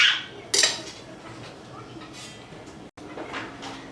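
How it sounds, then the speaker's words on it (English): Halved Brussels sprouts tossed into a pan in a home kitchen, a sharp clatter near the half-second mark followed by soft rattling and light kitchen clinks, with a brief dropout near the end. "throw it in the pan, done."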